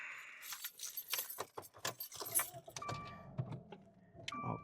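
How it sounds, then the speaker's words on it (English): Keys jangle up close, a bright metallic rattle that shifts in bursts, with faint car-door and interior handling noises mixed in and no talking. "Get my keys."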